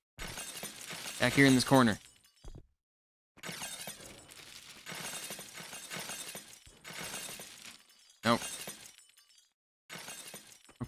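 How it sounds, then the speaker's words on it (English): Repeated bursts of shattering glass in a train station renovation video game, loud and close, several crashes separated by short gaps, with someone talking briefly. "Ah, the glass breaking sound."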